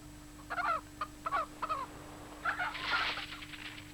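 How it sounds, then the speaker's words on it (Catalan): Chickens cluck in short, rough bursts, several calls in a row followed by a longer squawk, heard moderately close over a low steady hum in an animated scene. "Franz i Flon, deixeu sortir tots els pollastres."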